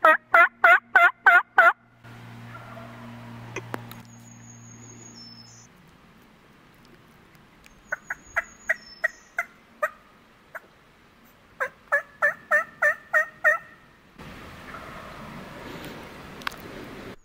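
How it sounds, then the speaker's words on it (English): A wild turkey gobbles in several loud rattling bursts, repeating at intervals across a quiet spring forest in Pennsylvania, with a faint whistle and rustle in between. "he immediately fired back with the gobble"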